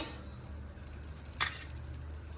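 A tablespoon of butter sizzles in a pan as the masala for a spinach moong dal dosa begins, a steady soft frying hiss with one brief clatter midway and no talk.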